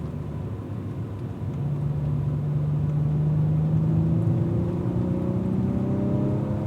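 A Cadillac V-series race car driving a racetrack at a performance racing academy, its engine a continuous low rumble that swells and rises in pitch as it accelerates, heard from inside the car, steady and fairly loud.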